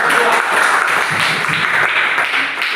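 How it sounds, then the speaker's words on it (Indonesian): Classroom applause for a student group, a moderate burst of many hands clapping together in a school room, steady throughout. "kasih tepuk tangan untuk kelompok"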